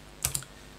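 A quick pair of keystrokes on a computer keyboard, two close, crisp clicks standing out alone against faint background hiss.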